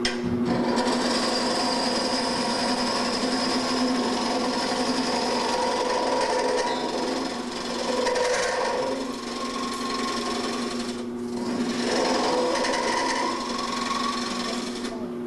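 Wood being turned on a pedal-driven lathe while making third-century-style bottles, a steady rasping, whirring cut that runs almost continuously with slight dips, with someone talking over it.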